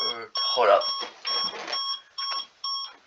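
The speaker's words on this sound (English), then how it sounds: "That was my alarm." A repeating electronic alarm sounds in short bursts of several bright tones, with pauses between them, while a voice speaks over the first part.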